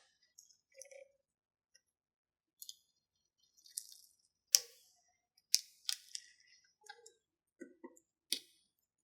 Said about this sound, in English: it's helping you to remove all of the negative pieces of vinyl from your design